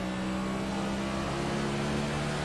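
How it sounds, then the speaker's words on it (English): NASCAR Next Gen Cup cars at World Wide Technology Raceway (Gateway), a loud continuous engine roar with a steady droning pitch, close and unbroken. "there's so much engine noise in my ears from these cars"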